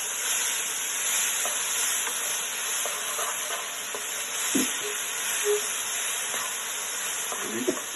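Frozen okra from an Indian shop frying in a pan for a Sri Lankan curry, stirred with a spoon: steady loud sizzle and hiss with scraping clicks from the stirring, no talking.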